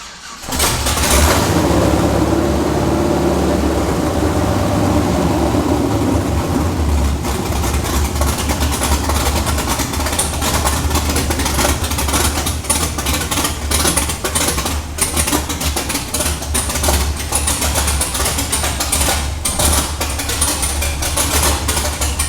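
A 1968 Pontiac Firebird V8 fitted with a new intake fires up and runs at a loud, steady idle, close by, with a rough continuous rumble and no talking over it.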